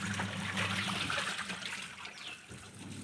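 Water runs steadily from a household tap in a kitchen or washing area, a continuous broadband rush that stays fairly close and even throughout, with no speech over it.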